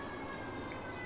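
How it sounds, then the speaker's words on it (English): A siren wails steadily in the distance, faint and continuous for about a second, with no speech over it. "You can hear the sirens celebrating the"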